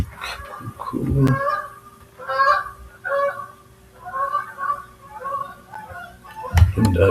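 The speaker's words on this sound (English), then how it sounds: "Them ducks, well, they ain't ducks, they geese. They be out there loud." Several geese honking outdoors in repeated bursts of loud, nasal calls, some overlapping, with brief lulls between groups and a heavy thump near the start and end.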